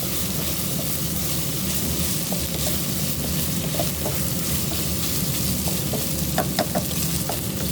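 Rice stirred into chicken and vegetables in a hot pan, a steady close sizzle with scraping and a few sharp clicks of the spoon against the pan.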